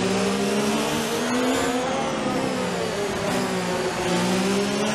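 A Ferrari-powered Formula 1 car in F1 2019 roars down a long straight, a loud, steady high-pitched engine whine climbing through the gears without a break.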